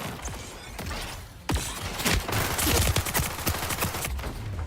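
Dense bursts of rapid gunfire from the video game Splitgate 2, loud and continuous, with overlapping shots and impacts filling the whole stretch.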